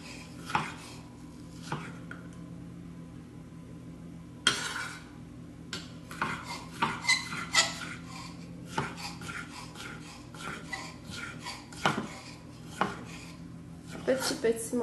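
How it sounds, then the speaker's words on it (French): Knife slicing fruit and vegetables into strips on a cutting board for a salad, a steady series of close knocks and scraping cuts over a low background hum. "on coupe par lanière"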